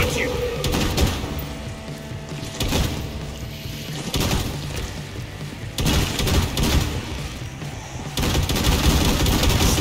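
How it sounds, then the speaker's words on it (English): Guns fire repeatedly in a Killing Floor 2 fight, loud bursts of shots recurring every couple of seconds over continuous game action, with a player's voice talking over it. "Shooting them is almost too easy."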